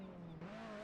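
In the Project Cars racing game, a Mitsubishi slides under handbrake with a brief, steady tire squeal over a droning engine note, faint and lasting under a second.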